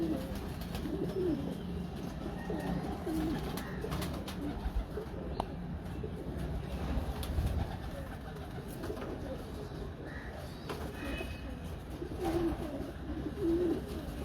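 Pigeons coo repeatedly in a loft, including the son of a famous pigeon named Rhino, soft rolling calls recurring at moderate distance over low background noise and faint voices.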